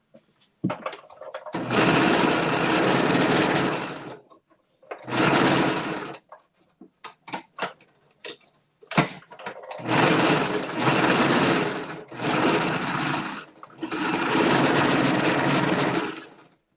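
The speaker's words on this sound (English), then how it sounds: "Now let me serge this and top stitch." A serger sewing machine stitches fabric in several loud, sustained bursts of rapid whirring, separated by short pauses filled with small handling clicks.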